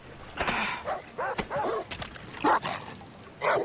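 A dog barks and yips in the video game Far Cry 3, a string of sharp, loud bursts in irregular rhythm amid game sounds.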